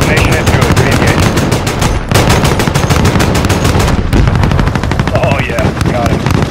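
Sustained rapid automatic gunfire from a gunship's cannon in Call of Duty Modern Warfare's Proxy War mission, loud and dense, with a brief gap near two seconds and another near four before firing resumes.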